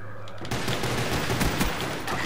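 Pistol fire fills a round of a shooter game, with a dense, steady run of loud overlapping shots and crackling bursts following a brief quieter moment at the start.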